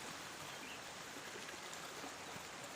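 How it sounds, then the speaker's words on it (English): Creek water flowing beside a hiking trail, a steady, faint, even rush of running water with no voices. "I am hiking by a creek on a Tuesday."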